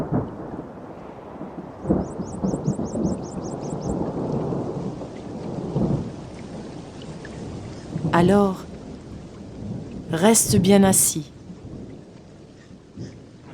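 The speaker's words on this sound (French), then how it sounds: "Et c'est maintenant la pluie et le tonnerre qui arrivent." Rumbling thunder rolls beneath steady rain during a children's yoga session, with a calm voice speaking over the start, then bright melodic chimes ring out twice near the end.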